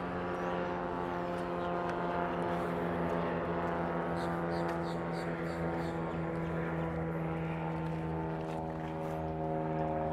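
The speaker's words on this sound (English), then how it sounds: "There's a seaplane now behind me." A seaplane passes over Miami Beach, its propeller engine a steady, droning hum with a distinct tonal whine that holds constant throughout, mixed with faint outdoor crowd noise.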